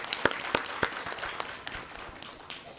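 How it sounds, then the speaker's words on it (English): A modest audience claps at a CHD Awareness Week 2019 event, a few sharp close claps over a soft, thinning patter that tapers off within about three seconds. "Let's give him a big applause."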